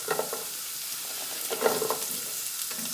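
Zucchini and squash sizzle and hiss as they are added to a hot pan and stirred, a steady frying crackle with scraping bursts, close and without talk.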